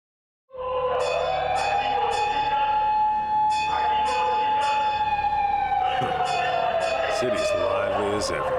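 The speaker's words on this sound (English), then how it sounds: "There were certainly plenty of sirens." Police sirens wail through a busy city street in the Lost Judgment video game, a loud sustained rising and falling tone over several seconds with bell-like chimes and background bustle.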